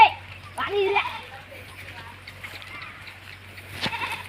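A goat bleats near a farm amid children's voices and chatter, its short wavering cries mixed with talk over a steady low hum.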